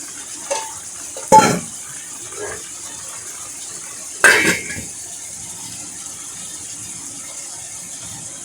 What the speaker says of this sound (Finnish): Takana pöhisee muuten vedenkeitin